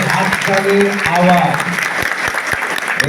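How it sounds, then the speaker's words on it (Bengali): Audience applause at a chairman's gathering with a crowd of masons and builders: steady, dense clapping across the whole stretch, loud and close, with a few sharper individual claps near the end. "আপনাদের হাততালিটা আরো জোরে দিতে হবে"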